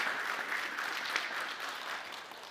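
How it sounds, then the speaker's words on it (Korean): Church congregation applauding steadily to honor an elder receiving an honorary plaque during a Sunday worship service, a dense wash of clapping throughout with no break. "우리 큰 박수로 한번 축복해 주시면"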